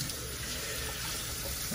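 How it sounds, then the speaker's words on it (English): Lukewarm tap water runs steadily as a Chinese crocodile lizard is rinsed under it, a constant close hiss with no breaks or voices. "So rinse the female off under some lukewarm water."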